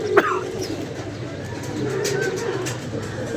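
Pigeons coo softly in bad, wet weather, a faint low murmur under steady background noise, with a sharp knock near the start and light chirps later.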